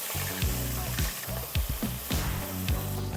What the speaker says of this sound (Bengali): কচু শাকটা ভাপাতে ভাপাতে মাছের মাথাটা আমি ভেজে নিচ্ছি রান্নাটার জন্য আমি সর্ষের তেল ব্যবহার করছি